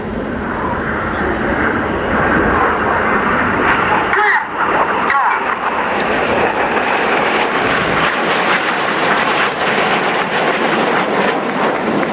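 Military jets flying in close formation at the Royal International Air Tattoo air show, a loud sustained engine roar with wind buffeting, heard under an announcer's commentary.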